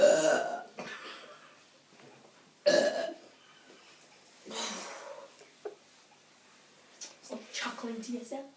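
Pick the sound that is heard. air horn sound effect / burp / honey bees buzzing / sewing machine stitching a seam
burp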